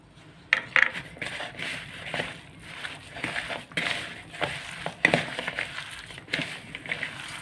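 Chicken kabab mixture squished and worked by hand in a bowl, giving irregular wet squelching and crunchy crushing noises with occasional clinks against the bowl, close and moderately loud, no speech.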